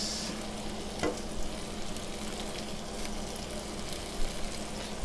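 Broccoli and shrimp sizzle and fry steadily in a pan for a shrimp pesto tortellini dish, a constant crackling hiss with a few louder stirring clatters.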